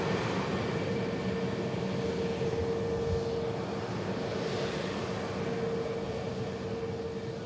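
A Thin Air Embraer E190 long-range jet taxis at an airport, its engines giving a steady, loud, continuous hum with a sustained tonal whine held throughout, no voices.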